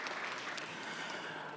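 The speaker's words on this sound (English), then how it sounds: "a big round of applause for you as well" Audience applause at a forum panel in Bucharest, a short, fairly quiet, steady patter of many hands clapping at a distance.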